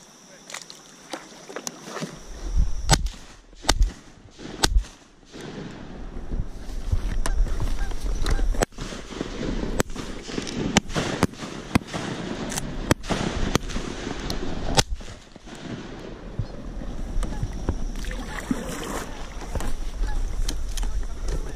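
Shotgun blasts during an early-season goose hunt from a boat floating on a river, several sharp loud reports in irregular succession, with water and hull noise plus faint talk beneath.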